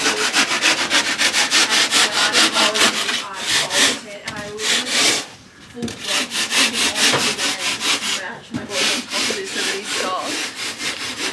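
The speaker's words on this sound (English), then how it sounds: "Sanding, boy." Steady back-and-forth scraping of sandpaper on expanding foam and putty, rhythmic and close, continuing with brief pauses.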